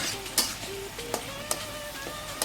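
Turmeric leaves, bay leaves and galangal stirred in a pan for kalio jengkol, soft sizzling under light tapping and scraping of a utensil against the pan at an irregular pace, close and quiet.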